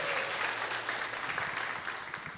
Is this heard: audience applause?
yes